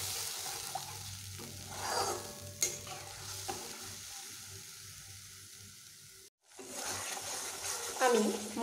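Spice paste for a vegetarian taro curry being fried and stirred in a pan, with a soft sizzle broken by scraping and clinking stirs, a brief silence, then the sizzle returning stronger near the end.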